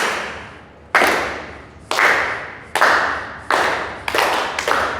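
A group of students in a university teaching session claps together in sharp unison bursts, about seven loud, evenly spaced hits, each ringing briefly in a reverberant classroom.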